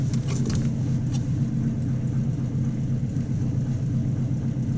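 A cold Buick Roadmaster engine idles after being shifted into drive, a steady low rumble that stays loud and close throughout, with a few faint higher clicks near the start.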